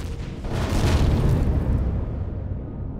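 A heavy boom from a weapon firing in the space survival game Empyrion Galactic Survival, a single broad blast that swells and rumbles loudly for a couple of seconds before slowly fading.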